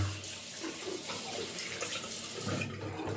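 Cold tap water runs from a faucet into a sink during face washing, a close, steady splashing hiss that goes on without a break through the short stretch.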